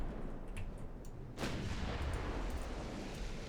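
Naval artillery fire aimed at a battleship in the Ultimate Admiral Dreadnoughts video game, one distant boom over steady rumbling battle ambience, with faint crackling shots scattered across the background.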